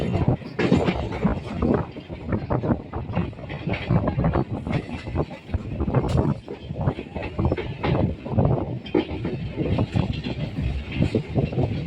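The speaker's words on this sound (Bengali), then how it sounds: "ট্রেন এখন ঢুকে গেল ডানকুনি স্টেশনে" A passenger train rolls into Dankuni railway station, with loud rumbling wheels and rhythmic clickety-clack over rail joints, steady and close throughout.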